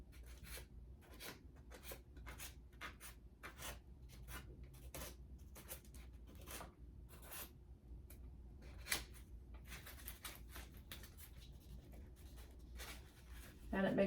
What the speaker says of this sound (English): I think I will first draw the line where I'm going to cut